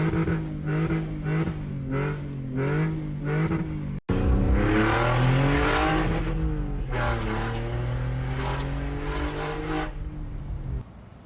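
A hard-driven car engine revs loudly and repeatedly, rising and falling in pitch with short pulsing bursts, then a brief cut before a longer sustained high-revving run, close and alone.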